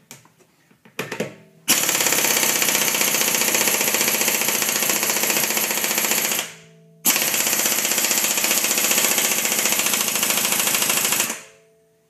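An impact wrench hammers at over-tightened lug nuts in two long, loud bursts of rapid rattling impacts, each several seconds long and separated by a short pause, close to the listener with no talking.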